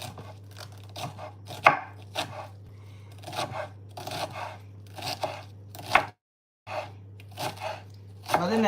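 Meat being cut with a short knife, bursts of sawing and scraping strokes repeated over several seconds, close, over a steady low hum, with voices talking now and then.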